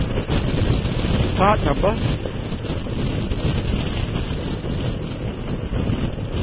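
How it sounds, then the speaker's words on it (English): Steady wind buffeting a microphone roars throughout, a dense low rumble with a brief voice passing underneath. "of course it's another windy day, isn't it?"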